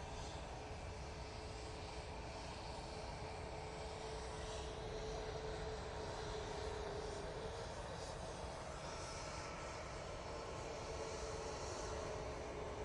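An EasyJet airliner taxis along taxiway Tango at Manchester Airport, giving a faint, steady engine hum and whine that holds evenly throughout, with no voices.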